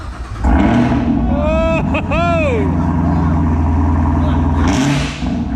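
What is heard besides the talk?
Chevy Silverado 3500HD Duramax diesel dually truck driving, revving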